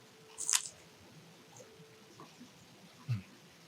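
Crunchy skin of baked salmon bitten and chewed near the mic, a sharp crisp crunch at the start and a softer bite a few seconds later, with quiet pauses between.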